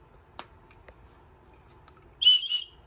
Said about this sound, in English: you got your little emergency whistle